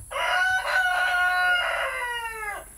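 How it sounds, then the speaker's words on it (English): A rooster crows once, loud and close, a single drawn-out call lasting a few seconds with nothing else around it. "Gotta wait for the rooster to crow."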